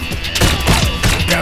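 Rapid gunfire from a shooter in the video game Blue Estate: a dense, close burst of repeated shots and thumps packed into a second and a half.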